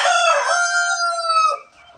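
A single rooster crows loudly and close among a flock of chickens, one drawn-out harmonic call that fades into quiet at the end.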